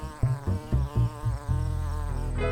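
Cartoon wasps buzz in an animated insect series: a low, steady droning hum that swells in short bursts and then holds as a continuous buzz near the end, with no talking.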